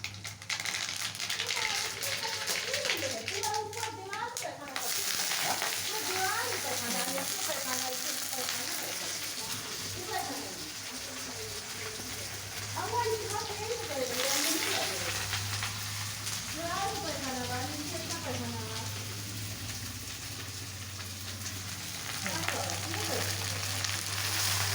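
Whole mustard seeds crackle and sizzle in hot oil for a dal tempering, a steady frying hiss running throughout with sputtering bursts, while someone talks over it.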